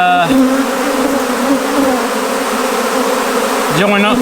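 A honeybee swarm drones loudly and continuously up close, a dense steady buzz with pitch wavering slightly as bees pass near.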